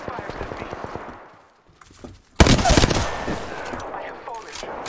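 Rapid automatic gunfire in the battle royale game Apex Legends, bursts of shots that pause briefly and then resume in a louder, denser volley, with game voice lines mixed in.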